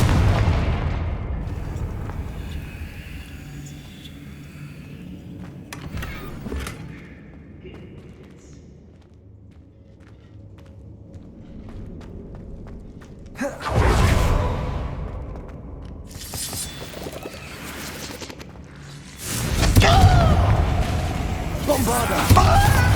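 Confringo blasting spells explode in Hogwarts Legacy, a couple of loud booming bursts with whooshing tails rising out of quieter ambient stretches, along with a spoken voice.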